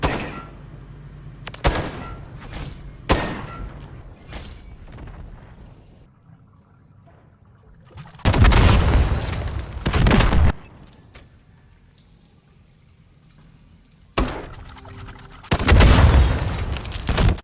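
Spawn tube launcher shots in Modern Warfare III, several loud booming launches and thudding impacts in separate bursts with quiet gaps between them, heard alone without talk.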